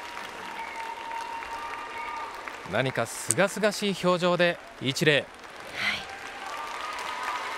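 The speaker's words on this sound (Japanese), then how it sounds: "会場の拍手を受けて" Arena applause for a Japanese rhythmic gymnastics team at the world championships continues as a steady background wash, while a commentator talks over the middle stretch before the clapping carries on alone.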